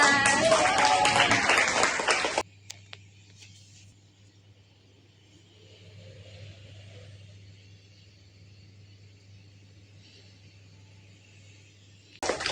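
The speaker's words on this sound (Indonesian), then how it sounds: "tepuk tangan untuk kita semua" An elementary school class applauds during a science lesson on renewable energy: a brief burst of hand clapping at the start, then a quiet room with a low hum and faint sounds before a short final burst.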